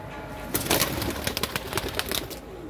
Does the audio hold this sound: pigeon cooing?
yes